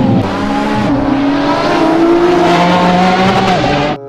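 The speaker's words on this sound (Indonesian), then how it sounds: "Lihat, ada mobil balap." A toy race car plays a loud electronic racing sound effect: a continuous roaring engine with tire-squeal tones that holds for about four seconds, then cuts off abruptly.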